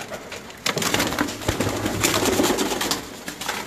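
Blue pigeons coo in a loft in Lahore, soft murmuring calls repeating close by over a busy background of rustling and faint wing movement.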